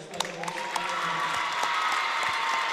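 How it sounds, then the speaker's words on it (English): A basketball tournament crowd roars and applauds for a player, a steady wash of cheering voices dotted with scattered claps, heard from a distance in the gym. "You just hear the crowd go wild for Lily Lantern down there."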